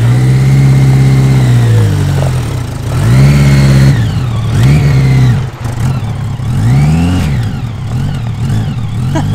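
A 1000cc trophy kart engine, recently flooded, revs up and down repeatedly, loud and close, its pitch climbing and falling in several bursts over a rough idle.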